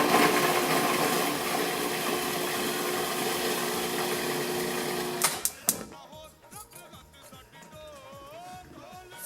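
A food processor blitzes onion, garlic and chili pepper into a coarse paste, a loud steady whirring grind that cuts off partway through, followed by clattering and rattling.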